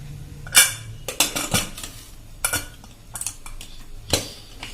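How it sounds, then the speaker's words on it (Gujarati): Pressure cooker lid being shut over boiled water and black chickpeas in a home kitchen: a handful of close metallic clanks and clatters spaced over a few seconds, with no talking. "તો હવે આપણે જો પાણી ઉકળી ગયું છે તો હવે આપણે એનું કુકરનું ઢાંકણ બંધ કરી દેશું।"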